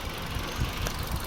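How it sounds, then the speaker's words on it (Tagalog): Engine of a 2017 Suzuki Ertiga with a misfire problem running at idle, a steady low rumble with slight uneven knocks, close and continuous. "pinaandar ko ulit yung makina, tapos try ulit"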